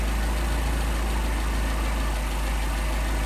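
A Mercedes 190SL engine with Solex carburetors idles steadily at around 650 to 700 RPM, a constant close, loud rumble with no talking.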